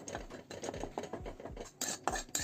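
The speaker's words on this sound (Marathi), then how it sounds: "त्यामध्ये दोन चमचे चण्याचं पीठ टाकले चण्याचं पीठ थोडंसं भाजून घेत आहे" A utensil scraping and clinking against a wok as gram flour is stirred and roasted over a low gas flame, a quick repeated rhythm of soft metallic strokes, close but quiet, no talking.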